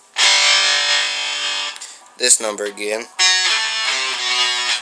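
Distorted electric guitar plays a riff, loud sustained chords that break briefly for a cleaner passage, with a person talking over the playing.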